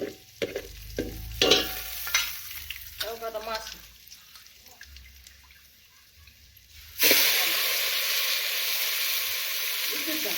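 Coconut and garlic fry in oil in a pan, with clattering and stirring at first, then a loud, steady sizzle that bursts up and holds to the end.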